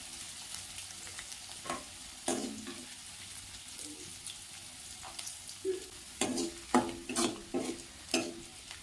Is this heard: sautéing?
yes